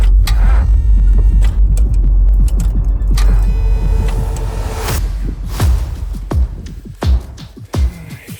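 A car engine fails to start on a windswept glacier road, with strained cranking bursts and a heavy low rumble under loud wind noise, then several short clattering thumps near the end.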